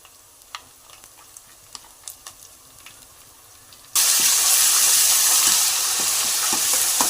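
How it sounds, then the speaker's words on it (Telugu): Ginger garlic paste with onions in a pan while cooking spicy farm chicken fry, starting with a few quiet stirring clicks, then a loud, sudden, continuous sizzle as it hits the hot pan, with spatula taps throughout and no talk. "అల్లం వెల్లుల్లి పేస్ట్లో పచ్చివాసన పోయేదాకా బాగా ఫ్రై చేసుకోవాలి"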